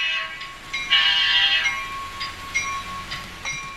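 A locomotive horn sounds from a train in a Western Canada setting, a few clear tonal blasts over rolling rail rumble, moderately loud and unaccompanied by speech.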